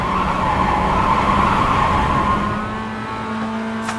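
Several MX-5 Cup race cars in the iRacing sim at Mid-Ohio run in a wet, close train, with a steady loud engine drone and tonal whine that eases slightly near the end; no talk.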